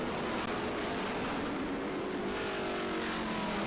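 A little red Corvette vintage race car roars past at Circuit of the Americas, its loud engine note sustained and rising through the pass, with a broad wash of track noise behind.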